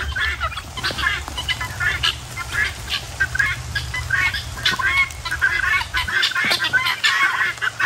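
Pet fowl call repeatedly on a walking trail, a series of close, rhythmic squawking clucks and honks over a low outdoor rumble that drops away near the end.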